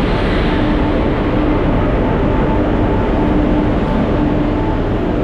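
Train bound for Amritsar on a Punjab rail line, a loud, steady rumbling roar with a faint tonal whine running through it and no break for its whole length.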